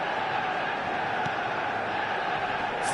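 A stadium crowd in the eFootball video game keeps up a broad, steady roar of cheering at moderate distance, continuous from start to finish without any voices over it.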